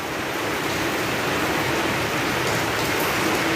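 Rain falling steadily on a school in Indonesia, a dense, even hiss of drops on surfaces that stays loud and constant throughout with no voices over it.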